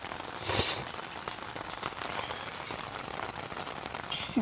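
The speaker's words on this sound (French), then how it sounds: "Il pleut, mais on est chaud de night." Steady light rain pattering on a surface nearby in the Alps, a soft continuous patter with a few louder drops.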